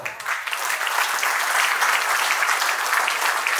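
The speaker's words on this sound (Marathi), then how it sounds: "जोरदार टाळ्यांचा स्वागत झालं पाहिजे" An audience at a school reunion gives a speaker a welcoming round of applause: sustained, dense clapping from a sizeable crowd, steady and fairly loud throughout without voices on top.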